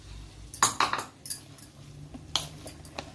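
Whole cloves, green cardamom, stone flower and black peppercorns drop into a pan, giving a few quick clinks and rattles in a short burst, close up, with no talking.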